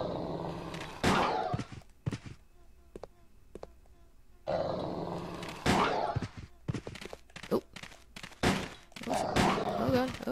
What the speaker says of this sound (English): I like how the dog sound like it's in stereo.